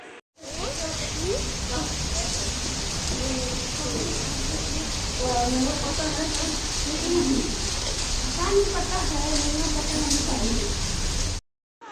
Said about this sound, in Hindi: एक तो कंटिन्यू बारिश हो रही है